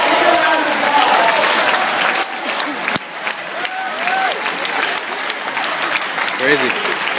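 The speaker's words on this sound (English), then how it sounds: "Give these people a big round of applause." A crowd applauds steadily, with whoops and some talk mixed in, the clapping sustained throughout.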